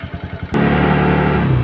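A motorcycle with an idling stop system is heard as the engine fires up abruptly and settles into a loud, close, steady idle with a throbbing low rumble.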